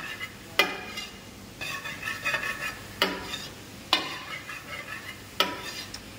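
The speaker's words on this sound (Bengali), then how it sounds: "একটু ভালো করে তেলে ভেজে নেবো।" Soya chunks frying in oil in a home kitchen, a steady soft sizzle broken by several sharp scraping stirs of a spatula against the pan at irregular intervals.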